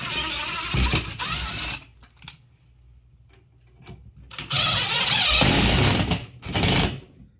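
A power impact driver drives screws into wall studs while mounting a garage LED light fixture: two loud buzzing, hammering bursts of rapid impacts separated by a quiet pause, with a brief trailing burst at the end.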